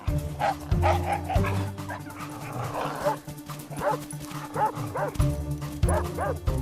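Several dogs bark and yip in quick bursts during rough-and-tumble play, with higher whimpering yelps mixed in, close and fairly loud against a steady low hum throughout.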